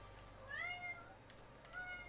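A pet cat meows repeatedly near a door, a few drawn-out rising and falling cries over a steady low hum, fairly faint and with no talking.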